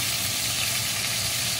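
Steady, dense sizzling of Italian meatballs frying in a hot pan, crackling continuously at close range without pause.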